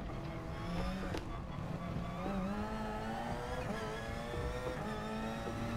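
Porsche 919 Hybrid race car in Gran Turismo Sport: a steady, high-pitched engine drone that climbs and shifts in pitch as it revs, continuous throughout.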